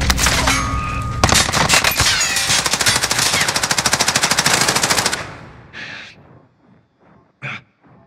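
Rapid automatic gunfire in a shooter video game, a dense sustained burst lasting about five seconds, loud and close, followed by a few scattered clanks and single hits.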